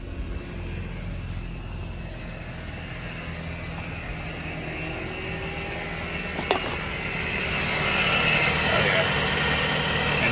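A 2008 Mazda 3 engine idles steadily with the AC compressor clutch engaged after a clutch assembly replacement, a constant mid-pitched hum with a brief click partway through and a slight rise in level near the end.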